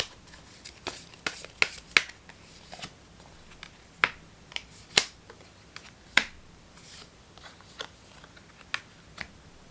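Tarot cards being shuffled and drawn, a run of sharp, dry snaps and flicks at an irregular pace, close and crisp against a quiet background.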